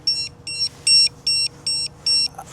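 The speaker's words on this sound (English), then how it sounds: "it's ready now because my buzzer's going off" A bakery order pager buzzing in a series of about six short, evenly spaced electronic beeps, bright and fairly close, over faint room background.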